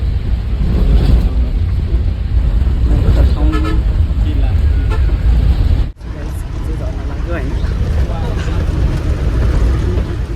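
A bus idles and rumbles in a busy bazaar, and its horn honks in short toots. The sound is close and loud and continues steadily, with people talking throughout.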